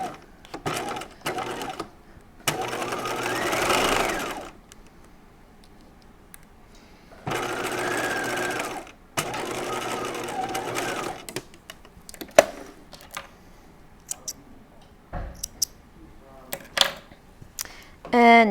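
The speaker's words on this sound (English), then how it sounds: "we're going to stitch this little underarm seam just with your regular straight stitch at 5/8 of an inch" A home sewing machine runs a straight stitch along a 5/8-inch underarm seam on a halter top, in three bursts of steady whirring with short pauses and handling clicks in between, moderately close.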